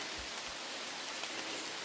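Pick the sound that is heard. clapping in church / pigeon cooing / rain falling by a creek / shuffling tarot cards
rain falling by a creek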